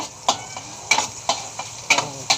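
Garlic and onion fry in a pan for kare-kare as a spatula stirs them, producing a low sizzle punctuated by regular, crisp taps of the utensil against the pan, about two per second.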